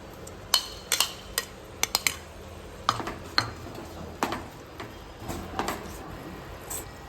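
A metal spoon stirring spices into ivy gourd (tindora) curry in a pan, with irregular close clinks and scrapes against the pan over a quiet background.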